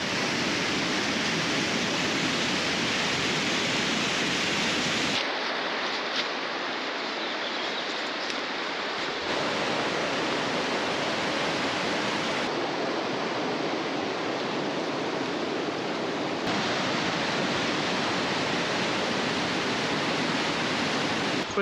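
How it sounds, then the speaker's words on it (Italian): River water rushing where a lake drains into a river near Mount Belukha, a steady broadband roar of flowing current, loud and unbroken, with slight shifts in tone as the listening position changes. "Questo è il punto in cui il lago si trasforma in fiume."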